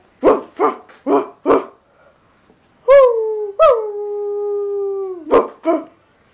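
A dog barks four times in quick succession, then lets out two long, drawn-out howls that slide slightly downward and end with a final pair of barks, all close and clear with no talking.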